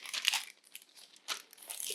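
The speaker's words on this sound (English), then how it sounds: "take a square of parchment paper, we're going to fold it into a triangle" A square of parchment paper being folded into a triangle in a kitchen, with crisp crinkling bursts close by, a quiet pause, then another round of crackling folds.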